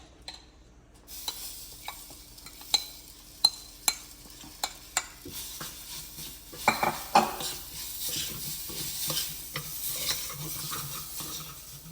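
A spoon stirs ground lentil paste into cooked gram flour in a pan for kachori stuffing, with sharp scraping clinks against the metal over a soft sizzle. The sound is close and steady, and no one talks.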